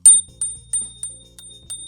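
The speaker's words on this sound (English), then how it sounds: "the bell, which is the most important thing about a scooter and it's my favorite part" Handlebar bell on a Gotrax XR Elite MAX electric scooter rings about six times in quick succession, loud and close, each ding sharp and fading quickly, with no voices.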